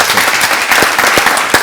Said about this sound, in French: De la mémoire, on va applaudir ça.